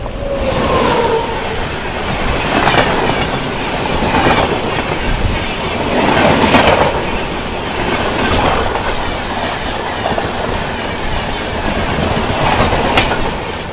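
Puri Jodhpur Superfast Express rolling past near Nagpur Junction, a loud continuous rumble with rhythmic clickety-clack of wheels over rail joints and occasional metallic squeal, swelling in regular waves as coaches go by; no voices.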